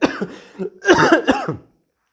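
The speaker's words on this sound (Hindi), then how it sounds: "खांसी आ जा रहा है" A burst of several harsh coughs close to the mic, uneven in rhythm, with a throaty rasp before falling silent.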